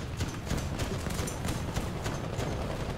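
Tank tracks rolling and clattering in War Thunder, a continuous rhythmic clanking of metal links over a heavy rumble, steady and close for the whole stretch.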